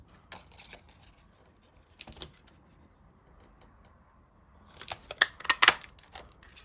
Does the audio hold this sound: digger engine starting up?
no